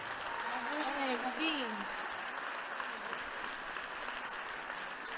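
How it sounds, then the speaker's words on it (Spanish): Audience applause at a live flamenco-style concert as the band members are introduced: a steady, moderately distant crowd clapping throughout, with a voice speaking briefly over it early on. "yo quiero que le deis un fuerte aplauso, pero fuerte a cada uno de ellos"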